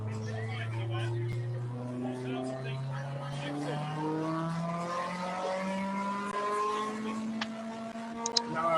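Peugeot 205 T16 rally car running on a rolling road, its engine note climbing steadily in pitch as it revs through the gears, with a sharp pop near the end.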